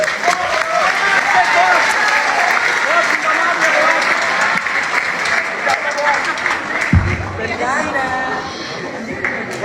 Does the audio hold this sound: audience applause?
yes